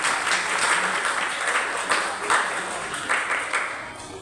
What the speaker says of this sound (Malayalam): നല്ലൊരു ക്ലാപ്പ് കൊടുക്കാം.